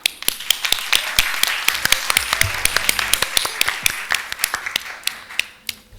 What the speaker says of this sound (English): please give a big round of applause to all the finalist teams and their amazing presentations